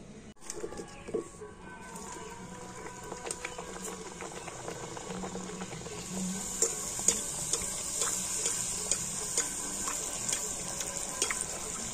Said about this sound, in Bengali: তো তেলটা একটু ভালো করে গরম করে নিয়েছি, আর এবার আমি লুচিগুলো ভেজে নেব।